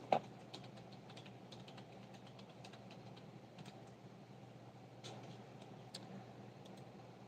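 A computer keyboard that may be faulty is typed on in scattered, light clicks, with a louder tap at the start. The keystrokes sound faint against a steady low hum, and no one speaks.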